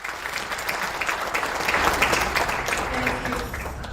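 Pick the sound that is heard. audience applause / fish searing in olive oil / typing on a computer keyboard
audience applause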